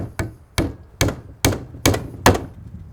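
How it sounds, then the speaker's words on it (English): Six evenly spaced hammer blows drive soaked plug spawn into a shiitake mushroom log, each a sharp close thunk on wood with short decay. "when you're hammering your plug spawn"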